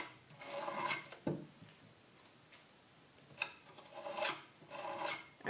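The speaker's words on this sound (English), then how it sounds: "I just kind of scrape it over the stencil." An offset spatula scrapes paste across a stencil laid on a wooden dresser, making soft, raspy strokes in several separate passes with quiet gaps between them.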